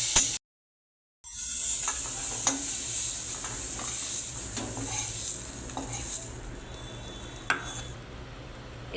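Prawns sizzle in hot oil in a pan with a steady, close crackle, along with scraping and stirring against the metal. A brief silent gap comes near the start.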